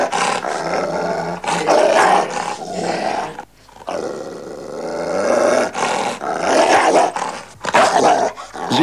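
A dog growls and snarls in deep, rough bursts, loud and close, with short pauses between the rumbling growls.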